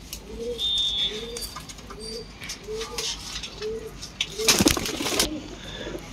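A pair of home-bred Shonk pigeons coo close by in a regular rhythm of about six low, rolling calls, then a burst of wing flutter or rustling near the end.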